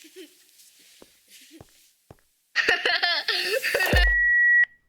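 School alarms in a Minecraft horror map blare suddenly after a quiet stretch of faint clicks, a loud wavering electronic wail that ends in a steady held tone before cutting off.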